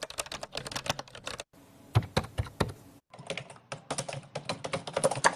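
A keyboard typing sound effect clatters with rapid, uneven keystrokes in three short bursts separated by brief gaps, crisp and close with no voices.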